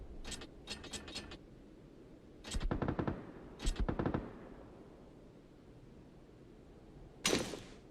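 Mortar firing in PUBG on PC: sharp mechanical clacks and rattling bursts of firing, several short clusters spaced apart, then one final loud blast, heard close with no voices.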